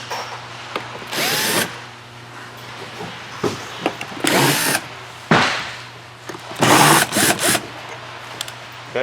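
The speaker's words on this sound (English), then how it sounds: "Go ahead and unscrew the wood screws out of the seat frame." Loud bursts of a power drill in short, separate runs with pauses between them as wood screws are backed out of a Stressless recliner seat frame, with no talking.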